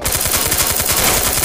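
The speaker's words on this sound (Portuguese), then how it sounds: "Tá um tiro, em cima do morro." Rapid automatic gunfire rattles continuously, dense and loud, a sustained burst of close shots with no pauses.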